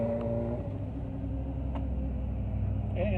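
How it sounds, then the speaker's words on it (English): Road traffic rumbles steadily nearby, with car engines droning and a vehicle passing, heard continuously at a vehicle inspection area near a racetrack. "you'll have to deal with a little bit of traffic noise once in a while"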